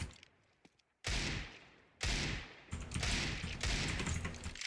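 Desert Eagle pistol shots in a video game aim practice, three or four loud, close blasts with short gaps between them, each followed by a brief decaying tail.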